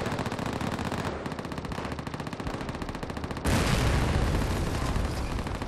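Dense, continuous machine-gun fire from Call of Duty: World at War on the Red Army campaign, with overlapping shots at a steady rapid rhythm that swell louder and fuller midway through the burst.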